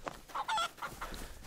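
Chicken clucking in the game DayZ, a few quick, close squawky clucks in a short burst with no voices over it.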